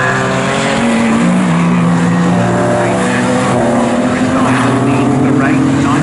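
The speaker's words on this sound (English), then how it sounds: "the leading train of cars heading out of Nelson up towards the bomb hole" Porsche Boxster and Cayman race cars roar along Snetterton circuit in a tight pack, engine notes rising and overlapping loud and near throughout, with a commentator talking over them.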